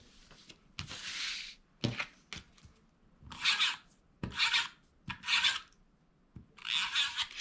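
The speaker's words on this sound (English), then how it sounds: "So I am going to take my tape runner again trying to get it centered." A tape runner rolls adhesive along paper gift-box panels in short scratchy bursts, about six strokes separated by quiet pauses and light handling clicks, close and faint.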